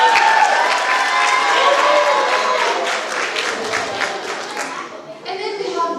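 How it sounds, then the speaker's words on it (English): Audience applause at a school awards ceremony, a steady burst of clapping that fills the room and then eases off before a short fresh flurry near the end. "Round of applause."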